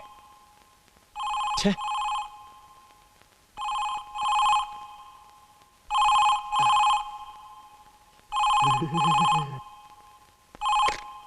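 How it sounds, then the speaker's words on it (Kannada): A telephone in a house rings in repeated double bursts, five rings with pauses between, loud and clear in a quiet room. "ಯಾರಾದ್ರೂ ಫೋನ್ ತಗೊಳ್ಳಿ"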